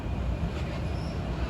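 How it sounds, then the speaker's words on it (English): A New Jersey Transit Arrow multiple-unit train rumbles past at close range near Long Island City rail lines, a steady, loud low roar of wheels and cars with no break and no voices. "There's a set of Arrow MUs from New Jersey Transit."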